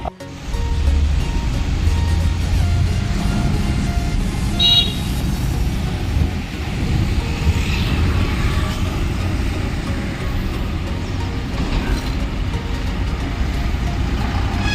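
A bus pulling away and driving off, a loud steady engine rumble and road roar close by throughout, with a brief higher horn-like tone partway through.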